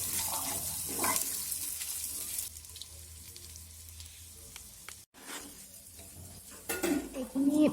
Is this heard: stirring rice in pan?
yes